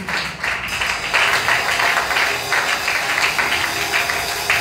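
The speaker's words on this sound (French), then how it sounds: "acclamez les Seigneurs" Church congregation clapping together in praise, a dense steady patter of applause lasting several seconds with faint voices beneath.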